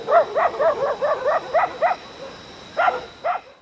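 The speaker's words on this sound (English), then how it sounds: "The barking dogs are getting closer." Several dogs bark in a rapid run of about eight yaps, then pause before two more barks, fairly close and lively, in an animated short set in woods with no talk over them.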